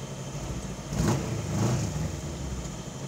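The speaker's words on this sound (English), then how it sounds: "So we're gonna test out the acceleration here." A 1986 Pulse Litestar accelerates in acceleration mode, its engine note rising and swelling over about a second before holding a steady, moderately loud drone, with no talking.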